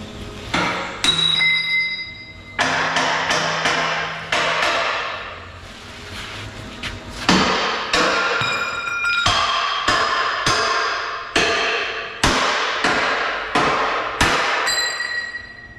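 Sharp metallic hammer blows ring out one after another, knocking tack welds off a steel moldboard on a Case 1150 dozer blade, each strike loud and close with a bright ringing decay, in irregular bursts.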